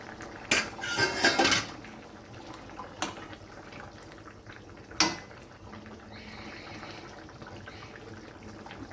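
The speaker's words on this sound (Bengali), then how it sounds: "এবার আমি ঢাকনাটা খুলে দেখব।" A metal lid rattles and clatters off a pot of simmering rohu fish and potato curry, followed by two sharp single clinks of metal against metal over a soft, steady background hiss.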